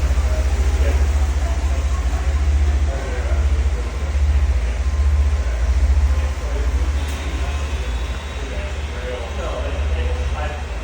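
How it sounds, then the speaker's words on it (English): Train at the Rosenberg railroad depot, a heavy, steady low rumble with a constant mechanical drone and faint rattles throughout, close and fairly loud. "Pretty cool train stuff."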